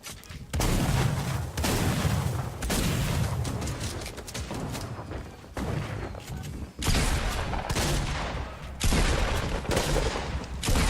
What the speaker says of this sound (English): I'm able to break down their fort with my Grenade Launcher.